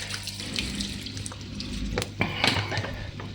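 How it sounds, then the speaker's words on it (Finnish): A dishwasher showing fault code F67 draws water through its inlet, making a steady running, hissing flow with a few faint clinks and knocks from inside the machine. No one speaks. "Se ottaa vieläkin vettä sisään"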